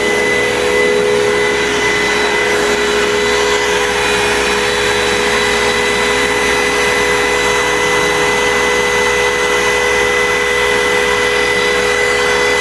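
A CNC machine cutting a wooden cabin sign makes a loud, steady, unbroken roar of motor and cutter noise that fills the whole stretch without pause.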